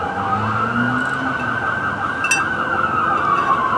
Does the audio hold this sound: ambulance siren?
yes